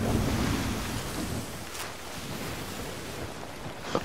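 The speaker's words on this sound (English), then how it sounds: "I'm floating around in the middle of the ocean." Ocean waves in the pirate video game Sea of Thieves, heard from a character floating in open water: a steady, loud wash of surf and wind noise that swells and eases, with a small splash near the end.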